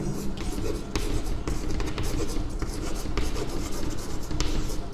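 Pen scratching steadily across paper as a maths answer is written out by hand, close and continuous, with soft rubbing strokes and brief pauses between words.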